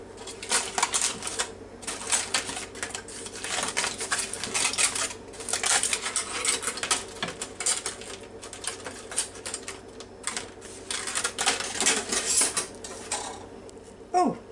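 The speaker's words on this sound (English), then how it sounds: "You can just cut it with your fork." Fork scraping and tapping against a plate while cutting tender crockpot BBQ pork chops, with repeated clinks and clatter coming through close and fairly loud across the whole stretch.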